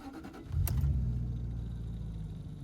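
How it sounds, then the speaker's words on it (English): A Jaguar XK8 engine cranks briefly and catches, then settles into a steady, fairly loud idle rumble close by. "And then I'll start the car"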